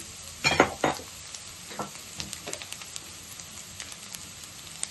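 A spoon scrapes and stirs through egg noodles in a pan with a scattered soft sizzle, as chilli powder, pepper and garam masala get mixed in. The strokes are close, with two louder scrapes early and then lighter, irregular clicks.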